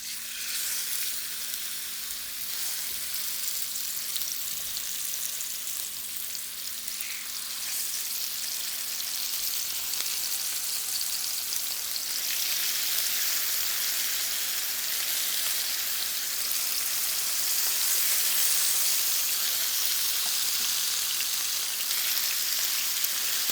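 Pork chops sizzle in a hot, lightly smoking oiled skillet, a steady close crackling hiss that holds without pause and grows slightly louder over time.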